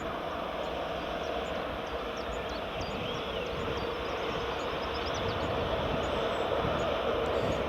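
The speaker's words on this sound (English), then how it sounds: "EasyJet to Keflavik is taking an intersection departure" EasyJet jet departing Edinburgh Airport for Keflavik from an intersection, a steady broad engine roar held at a distance throughout, with faint chirping birds nearby and no talking.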